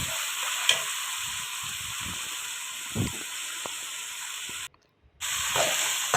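Mutton karahi sizzling in a pan as it is stirred, a steady bright frying hiss with a few soft scraping knocks, briefly cutting out near the end before resuming.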